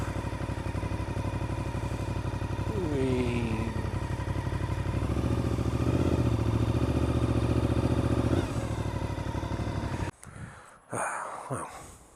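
A motorcycle engine runs steadily at a close, loud idle with a constant low drone and mechanical clatter. A brief rev comes midway, then it cuts out near the end, leaving a few knocks and handling noises.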